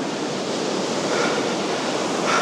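Big ocean waves surging at high tide on a Goa beach, a loud, broad wash of surf roaring continuously up close with no voices.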